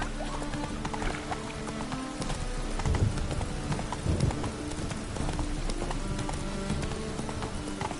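Roach the horse galloping in The Witcher 3, rapid rhythmic hoofbeats pounding steadily throughout over a low ambient rumble.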